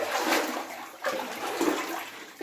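Boots wading through muddy, knee-deep water in an old mine tunnel on Mount Karangahake, New Zealand, with a few distinct splashing strides sloshing close by.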